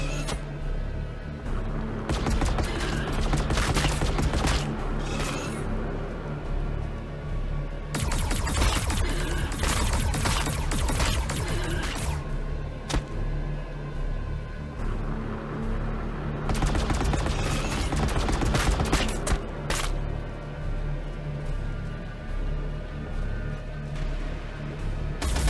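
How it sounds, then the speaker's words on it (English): Heavy shotgun fire from the strategy game Warhammer 40k Battlesector, in dense, loud volleys of overlapping blasts with brief lulls between bursts, set over a steady low battlefield rumble. "Bloody shotguns, they're so strong."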